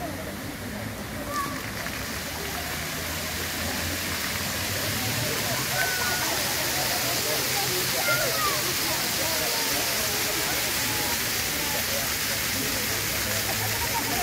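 A waterfall roars in a steady, dense wash that holds evenly throughout and swells slightly, with faint voices occasionally audible beneath the rush.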